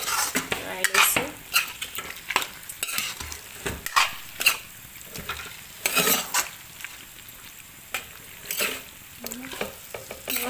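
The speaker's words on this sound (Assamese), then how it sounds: "মাংসখিনি মই এতিয়া মাংসখিনি ভাল ধৰণে লৰাই লৈছোঁ আদা ৰচুন পেষ্টটোৰ লগত" Meat coated in ginger-garlic paste and turmeric is stirred in a pan, the spoon scraping and clattering in repeated bursts over a steady close sizzle of frying.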